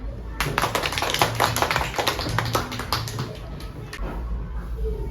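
A classroom of students claps for a classmate after she finishes answering a maths question, a burst of close, uneven hand claps that builds quickly, holds for several seconds, then thins out near the end.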